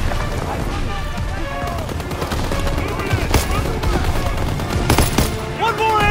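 Machine gun fire during a Call of Duty WWII battle, rapid bursts rattling under shouting voices and a dense din of combat, with a few sharper cracks standing out near the end.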